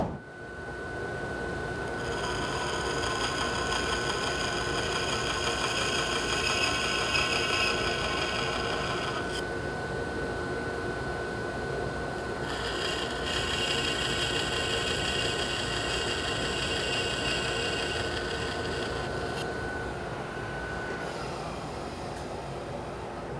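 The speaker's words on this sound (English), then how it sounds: "I can cut curves in pretty much anything, taking full advantage of the thickness capacity on a big saw like this." Big nickel-coated bandsaw cutting curves, a steady high whine with a sustained hum and faint rasping of the blade, running continuously for over twenty seconds with shifts in tone as the cut progresses.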